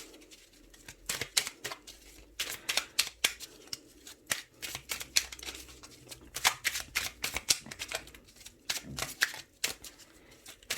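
Oracle cards from the Murmure de nos anges deck are shuffled and cut by hand, with rapid bursts of crisp riffling and slapping that come in irregular clusters close to the mic, alone without talk.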